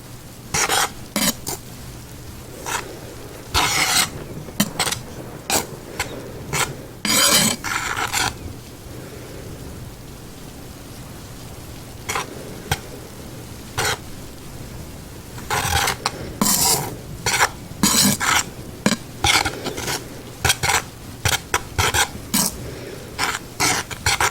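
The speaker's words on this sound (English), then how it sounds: "So I have my whisk here, and I'm just gonna mix it all up together." A whisk mixes dry cookie ingredients in a bowl, producing irregular bursts of scraping, rattling strokes separated by quiet pauses, close and clear against faint rainy ambience.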